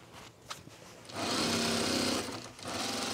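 A sewing machine runs steadily for about a second and a half, stitching a French seam up to the top of a garment vent, after quieter handling of fabric at the start; no one speaks.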